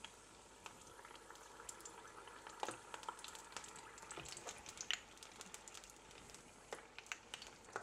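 Sesame-coated feta cheese frying in hot oil at about 165 degrees, a quiet steady bubbling sizzle with scattered crackles and pops throughout.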